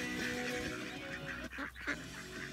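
Ducks honking and quacking loudly and continuously at close range, a dense overlapping chorus with a brief dip midway.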